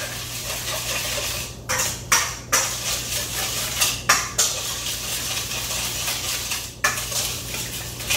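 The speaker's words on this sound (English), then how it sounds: "And now we need to whisk." Whisking a whiskey salmon marinade of black pepper in a bowl, a steady scraping clatter with a few sharper metallic knocks of the whisk against the bowl, close and alone.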